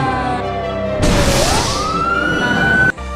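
A toy fire truck siren wails loudly and close, a steady warbling tone that drops then rises in pitch over about two seconds before cutting off abruptly.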